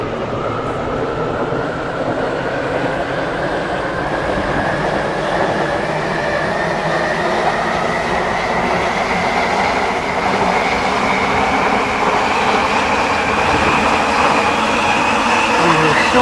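A Class 720 train in Stepford County Railway runs at speed, a loud steady rumble of wheels and motors with a slowly rising whine, continuous and close throughout.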